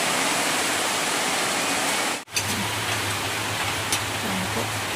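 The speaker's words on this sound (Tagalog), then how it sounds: "naririnig nyo kung gaano kalakas ang ulan dito sa amin." Heavy rain hisses in a loud, steady wash that cuts out for a split second midway, then carries on with a faint low hum underneath.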